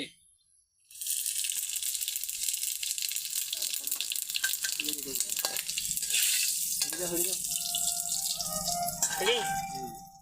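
Bay leaves, dried red chillies and whole cumin hit hot oil and burst into a bright, continuous sizzle after a near-silent second, with light rattles, a voice talking over the frying later on, and a faint dripping sound.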